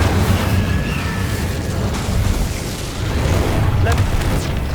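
Incendio fire spell blasts in the Hogwarts Legacy video game, a loud, sustained roar of booming bursts and rumbling explosions, with a voice speaking over the din.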